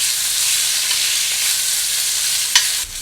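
Green beans blistering and charring in olive oil in a hot pan, an even, loud hiss of sizzling with a brief clink near the end, no one speaking.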